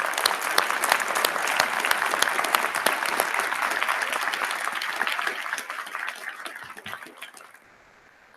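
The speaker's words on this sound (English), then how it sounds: "Let's give these award winners a round of applause" Audience applause for law school award winners at a university hooding ceremony, steady and full from many hands, holding dense for about seven seconds before thinning and fading out near the end.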